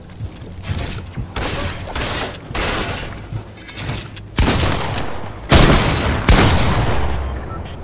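Repeated loud shotgun blasts in Fortnite, several broadband bursts in an irregular rhythm with mechanical handling noise between shots, close and dominant with no speech.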